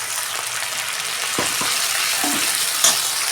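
Ginger garlic paste fries in a pan over onions that were fried first, making a loud, continuous sizzle with a few stirring knocks and scrapes.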